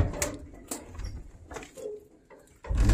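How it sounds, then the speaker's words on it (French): Pigeons inside an abandoned old farmhouse, with soft scattered coos and fluttery rustles, a few sharp taps and wing flaps, and a louder close flurry at the end. "C'est ces putains de pigeons là qui font le bruit."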